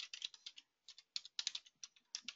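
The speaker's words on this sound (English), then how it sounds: "you'll need to type in the text" Light, quick typing on a computer keyboard, a faint close patter of key clicks in short uneven bursts with brief pauses, no talking.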